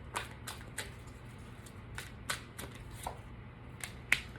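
Tarot cards are shuffled and drawn by hand, with soft, quiet riffles and crisp flicks of card stock that come at irregular intervals, close up, with no talking.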